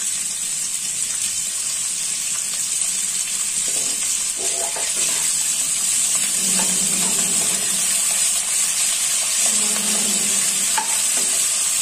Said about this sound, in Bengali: এটাকে আমি একটু মাঝারি আঁচে ভেজে নেব, কিছুটা বেরেস্তা হিসেবে তুলে রাখবো।